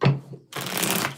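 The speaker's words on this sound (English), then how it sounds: "Let's get 4 shuffles here." A short riffle of tarot cards being shuffled, a quick flutter followed by a dense papery rush, close and crisp.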